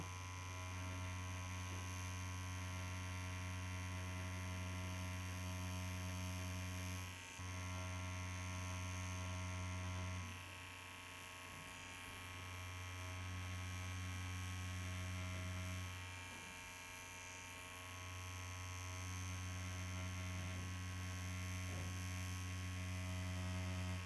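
A Dragonhawk Fold Pro tattoo machine with a 3-round liner needle runs steadily into a silicone practice skin, giving a continuous electric buzz with a strong low hum and a few brief dips as the needle lifts away.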